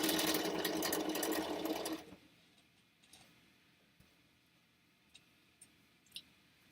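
Sewing machine stitching in a loud, rapid burst for about two seconds while chain piecing quilt half square triangles, then stopping, leaving faint scattered clicks and small handling sounds.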